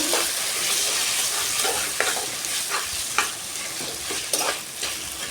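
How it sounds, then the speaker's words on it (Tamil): Potato pieces fry in a pan with softened tomato while a spoon stirs them, giving a constant close sizzle and intermittent scraping knocks against the pan, with no talking. "உருளைக்கிழங்கு போட்டுக்கலாம். ஒரு கிளறி விட்டுறலாம்."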